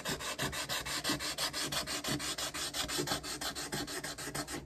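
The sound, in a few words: hand sanding wood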